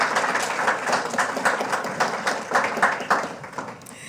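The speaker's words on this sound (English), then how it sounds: "So please stand and let's give them a round of applause." An audience at an American University global education forum on campus hate applauds the event staff, a steady wash of many hands clapping at moderate loudness throughout, easing slightly toward the end.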